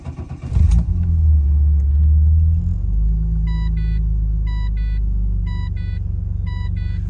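A neglected skid car's engine cranks and fires, then settles into a steady low idle rumble, close and loud, with a short chiming warning beep repeating in the background.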